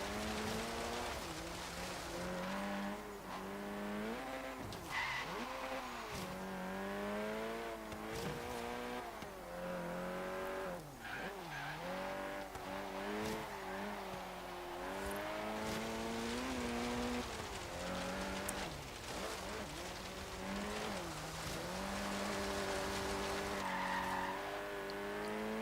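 A car with extra power is driven hard, its engine revving up and down continuously while tires squeal through repeated corners, loud and close with no talking.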